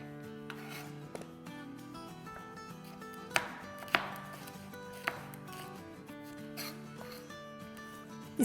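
A knife chopping green chilies, garlic cloves and a piece of ginger on a board, giving a run of quick, close, irregular cuts and scrapes with a few sharper taps.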